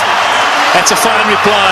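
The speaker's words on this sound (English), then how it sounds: "And a deserving applause" Home crowd at a South Africa versus Australia one-day cricket match in Johannesburg applauding a batsman's fifty, a steady broadband wash of clapping and cheering with a commentator speaking over it.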